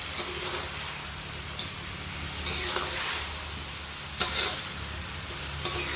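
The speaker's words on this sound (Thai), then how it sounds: "ใส่เนื้อปลาที่เราทอดไว้เลยครับ ตามด้วยขึ้นช่ายครับ ผัดต่อเลยครับ" Fried tilapia pieces and Chinese celery are stir-fried in a hot pan, giving a steady sizzle and hiss with occasional louder scrapes of the spatula stirring through the food.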